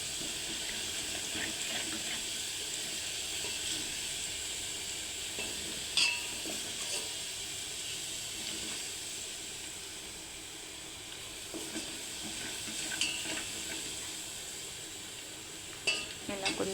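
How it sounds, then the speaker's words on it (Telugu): Garlic paste frying in a pan for mango pickle, a steady soft sizzle with occasional stirring scrapes and clinks, continuous and close, with no talk. "ముందుగా ప్రిపేర్ చేసి పెట్టుకున్న వెల్లుల్లి పేస్ట్ వేయాలి."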